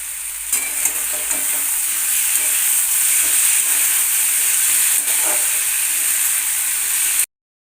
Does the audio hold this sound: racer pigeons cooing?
no